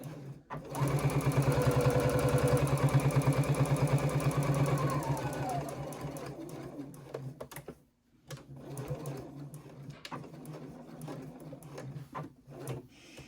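A sewing machine runs a fast, steady stitching burst along the side seam of a small fabric triangle pouch, then slows and stops into quieter handling noises and brief gaps.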